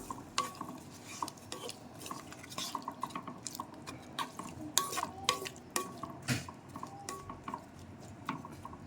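Drumstick and tomato curry stirred in a pot, heard as a string of close clinks and scrapes of a spoon against metal over a soft bubbling simmer. The strokes come unevenly and no voices are present.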